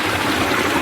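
Water flows among rocks in a dense jungle, a close, steady rushing and bubbling wash with no pauses, fairly loud and alone.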